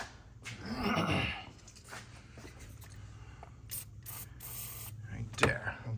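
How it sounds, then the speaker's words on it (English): Short hissing bursts of penetrant spray aimed at an engine line on a 2018 Cadillac XT5 3.6 during thermostat and temperature sensor work, close by and fairly quiet, with some clicks and handling noises between them. "So we'll spray some penetrant down on that also."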